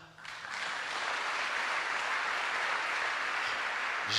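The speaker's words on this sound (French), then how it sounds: "acclamons-la" Sustained applause fills a church after a female cantor's song, a dense, steady wash of clapping from a crowd that swells quickly and holds at an even level throughout.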